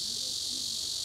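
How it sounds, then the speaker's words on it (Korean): Cicadas sing at a rural shrine in Dallakgol, Cheongyang, South Chungcheong, Korea. Their continuous, piercing high-pitched drone fills the air at steady loudness, and a voice speaks faintly underneath. "귀를 찌를 듯한 매미 울음소리를 뒤로하고"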